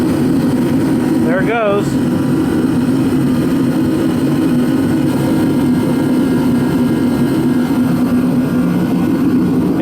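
A Procom 110VT turbo heater running with a steady, loud, even roar that fills the whole stretch, with a brief spoken remark near the start.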